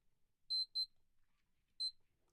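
A Fastime 28 digital stopwatch sounds its alarm: two quick high-pitched electronic beeps, a short gap, then a third beep. The tones are clear and close against near silence.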